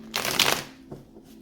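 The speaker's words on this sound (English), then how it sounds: "1 last shuffle." A tarot deck is riffled in one quick burst of crisp flutter, then a soft tap as the cards settle; no one speaks.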